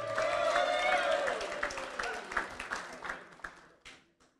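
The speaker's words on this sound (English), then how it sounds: "You guys started clapping before I could get her name out." Audience clapping at a Lions Club installation dinner, starting with scattered claps under a speaking voice and then thinning out into a few fading claps.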